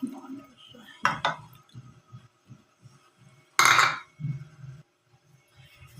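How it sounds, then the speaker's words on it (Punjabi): Eggs being added to a cooking pan, with a few sharp clanks and scrapes of metal cookware close by, including two clear bursts, over a low background of faint murmuring voices. "ਤੇ ਹੁਣ ਅਸੀਂ ਪਾਈਏ ਵਿੱਚ ਆਂਡੇ।"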